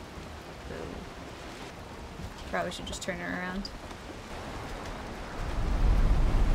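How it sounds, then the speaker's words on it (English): Steady rain falls in the Valheim video game as a constant hiss that swells louder toward the end, while a person briefly speaks over it. "And of course it rains."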